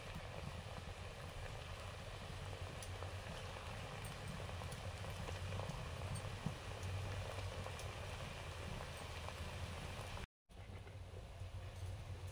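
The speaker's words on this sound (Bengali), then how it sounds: "পরেরগুলো ভাজছি।" Sweets deep-frying in hot oil give a soft, steady hiss and sizzle, low and constant throughout, with a brief drop-out near the end.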